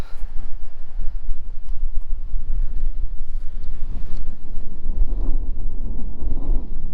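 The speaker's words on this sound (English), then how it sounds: "Oh yeah, pumping engine." A water pumping engine runs somewhere along the Lost Coast Trail on the California coast, giving a steady low rumble mixed with wind buffeting the microphone, with no talking.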